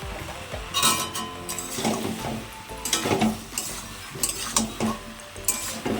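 Bottle gourd and puti fish curry is stir-fried in a pan with cumin powder. A spoon scrapes and clinks against the pan in irregular strokes over a low sizzle, close and moderately quiet, with no talking.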